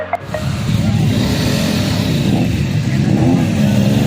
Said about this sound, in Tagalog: ginising kami ng mga iba't ibang tunog ng motorsiklo